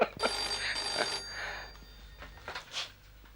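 A telephone bell rings in a home in a Hindi TV drama, two or three bursts of bright metallic ringing separated by short pauses over a faint room hum.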